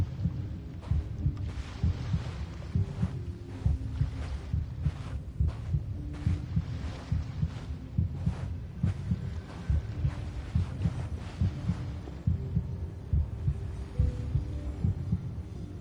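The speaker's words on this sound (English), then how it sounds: "It's like pulsating like a heartbeat." A pulsating heartbeat-like throb from the video game Genshin Impact, low and steady, repeating in a continuous rhythmic pattern with a rumbling hum underneath for the whole stretch, with no voices.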